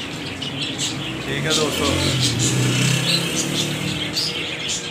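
A pair of Fischer's lovebirds chirps in short, bright tweets in a shed, fairly faint beneath someone talking, with a passing car hum in the background.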